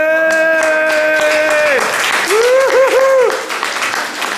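A church congregation applauds with steady, crowd-wide clapping throughout, while a voice speaks and calls out loudly over it.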